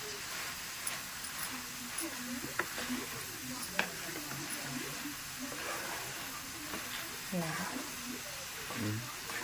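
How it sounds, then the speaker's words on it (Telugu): Broad beans and tomato curry stirred in a pan, a steady hiss and sizzle with scraping strokes and soft clinks, a voice speaking over it. "ఇప్పుడు బాగా కలుపుకుందాం"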